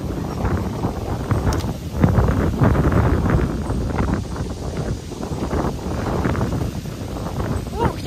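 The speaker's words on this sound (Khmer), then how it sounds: "អូខ្យល់ខ្លាំងមកចូលឲ្យស្រួល" Strong wind buffets the microphone outdoors in Koh Kong, Cambodia, as a steady, loud rumble that persists throughout, with faint voices mixed in.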